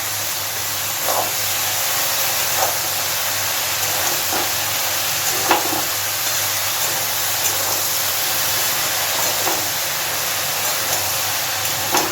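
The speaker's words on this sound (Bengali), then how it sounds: "এইবার মিনিট 5 সময় ধরে ওলের ডাঁটাটা একটু ভেজে নেব ভালোভাবে।" Elephant foot yam stalks fry steadily in a pan, giving a loud, continuous sizzling hiss with a few faint soft ticks scattered through it.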